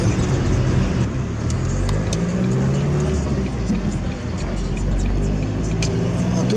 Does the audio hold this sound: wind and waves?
no